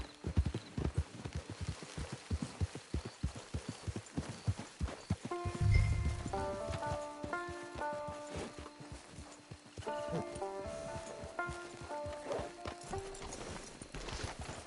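A horse's hooves clip-clop steadily and fairly close for several seconds, then a tonal, chiming musical passage rises over the fainter hoofbeats.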